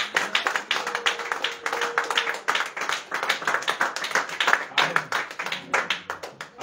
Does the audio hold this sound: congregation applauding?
yes